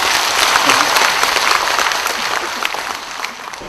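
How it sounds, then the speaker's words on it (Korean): Audience applause at an educational gathering in Korea: a dense, steady wash of many hands clapping together, loud and sustained, easing slightly toward the end. "박수 한번 쳐주세요."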